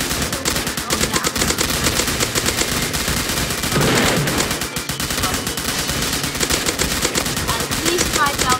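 Loud, continuous automatic gunfire from an overpowered weapon in the Roblox game Zombie Attack rattles rapidly throughout, with a short break in the middle and game effects mixed in.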